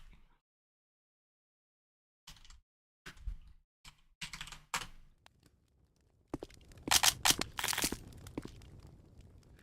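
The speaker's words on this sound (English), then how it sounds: "It's like a save typewriter out of Resident Evil." Typewriter-style save station typing in a Doom mod echoing a Resident Evil save room: short clusters of sharp mechanical key clacks after a silent opening, growing denser and louder toward the end.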